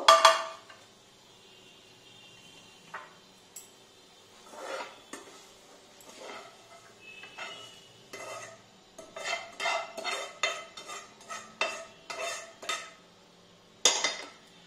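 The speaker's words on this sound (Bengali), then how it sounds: "এবার গ্যাস অফ করে নিয়ে আমি ডিশে ঢেলে নেব" Cooked sweet filling for chandrakala pitha or gujiya is scraped and poured from a pan into a dish, with intermittent metallic clinks, scrapes and spoon taps against cookware in a quiet kitchen.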